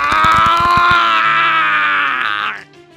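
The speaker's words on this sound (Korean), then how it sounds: "강한 통증에 나도 모르게 비명을 질렀다." A man lets out one long, loud, sustained scream of strong pain that rises and holds for a couple of seconds before cutting off. He is undergoing a pressure treatment for a body swollen by water pressure.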